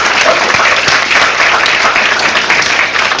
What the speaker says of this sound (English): Give Will a round of applause